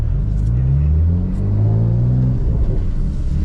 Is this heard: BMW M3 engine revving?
yes